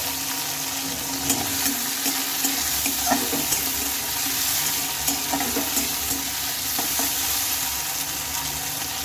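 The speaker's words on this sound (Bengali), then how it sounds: "আবার একটু ভালোভাবে নেড়ে চেড়ে নিচ্ছি" Fish curry of pabda fish with tomato, green chilli and whole garlic cooking in a pan makes a steady close sizzle with scraping stirring strokes, some watery bubbling, and no talking.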